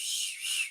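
A man imitates a whistle, producing a single high, airy whistled tone with a breathy hiss that swells, dips and then fades out after less than a second.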